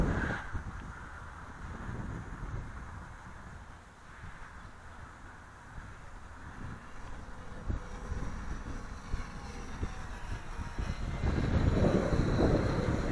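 Wind buffets the microphone steadily during a model airplane's maiden flight in gusty conditions, a constant low rumble that swells louder toward the end with no engine clearly standing out.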